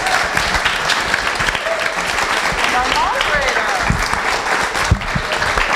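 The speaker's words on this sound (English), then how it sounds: "let me just ask the entire audience to give an amazing Jefferson round of applause to your fantastic panel" An audience at a storytelling panel event gives a loud, sustained round of applause, dense clapping that continues throughout with scattered voices underneath.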